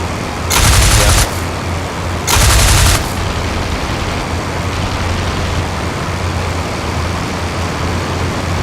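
Aircraft gunfire from a dogfight with a Bf 109 in the WWI-era flight game IL-2 Flying Circus: two loud bursts of rapid fire, each under a second, over a steady engine drone.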